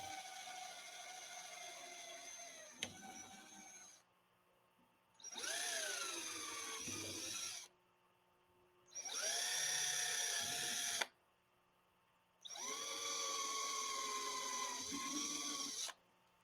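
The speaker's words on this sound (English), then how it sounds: "Drill with a number 23 and tap the rest of the holes." A power drill with a number 23 bit whines in four long bursts separated by short pauses, its pitch dipping as it bites into fuel system parts of a Talon A600 aircraft, close and steady.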